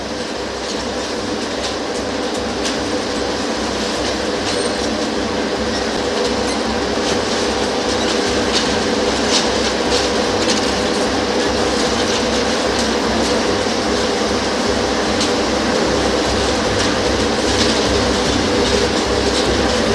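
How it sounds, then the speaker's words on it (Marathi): A Mumbai Metro train on a trial run on line 2B rumbles past loudly and continuously, a steady rail roar with faint wheel clatter and no voices. "मेट्रो 2B मार्गावर मेट्रोची चाचणी सुरू आहे"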